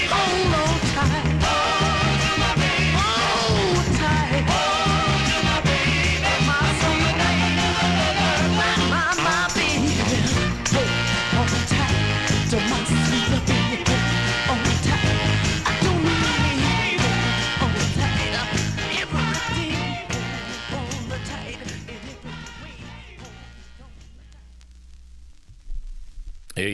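A 1966 soul 45 plays from a record, full band and vocals, then fades out near the end.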